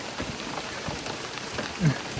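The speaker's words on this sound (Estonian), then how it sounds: "Uuest sajab täiega." Heavy rain falling outdoors, a steady dense patter of drops on surfaces with a brief louder splash near the end and no clear talk.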